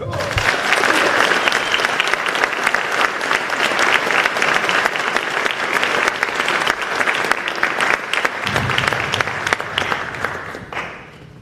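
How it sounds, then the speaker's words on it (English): Sustained, loud applause from a large ceremony audience honoring a retiring Army colonel and his family, dense steady clapping filling the whole stretch before tapering off at the very end. "please join us in a warm round of applause for Colonel Luper and his family."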